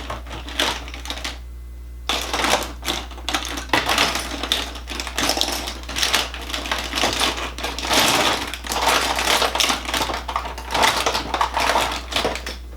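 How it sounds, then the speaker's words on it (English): A drawer crammed with lipstick tubes is rummaged through, giving a continuous, busy clatter of small objects knocking and clicking together, close and fairly loud, with a brief lull near the start. "That's the sound of my lipstick drawer."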